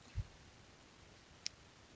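A single soft mouse click, close and quiet, with a faint tick after it, made while working in an Excel spreadsheet; no voices.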